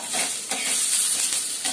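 Capsicum with salt, turmeric and a little oil sautéing on a hot griddle after the gas is switched off, giving a soft, close sizzle with brief stirring scrapes.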